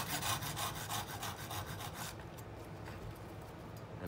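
An axe carves a wooden spoon close to the neck: quick, quiet rhythmic scraping strokes in the first half, then softer, sparser cuts.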